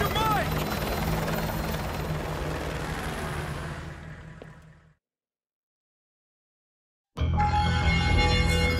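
A helicopter in Call of Duty: Modern Warfare 2 Remastered roars loud and close, fades to silence for a couple of seconds, then cuts back in at full volume.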